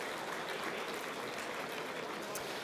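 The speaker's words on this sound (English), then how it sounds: "So big round of applause for all those special guests." Audience applause for special guests at a football association awards night, a steady wash of clapping heard at a moderate distance without a break.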